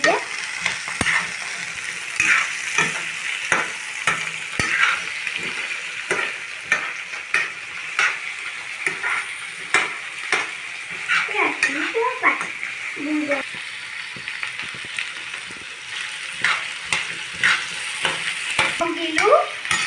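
Potatoes fry and get stirred in a pan of greens and jackfruit, giving a steady close sizzle broken by frequent scraping clicks of the spoon, with a voice talking over it now and then.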